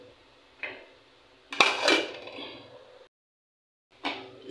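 A spoon scrapes and clanks against a metal cooking pot while a papaya, saluyot and ampalaya dish is stirred, with a sharp clatter of several quick knocks, then a brief pause and another scrape, close and fairly loud.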